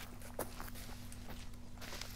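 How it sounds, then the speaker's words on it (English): Footsteps in the hunting video game The Hunter patter quietly and steadily over a constant low background hum, several soft steps in quick succession without speech. "That's a lot of footsteps."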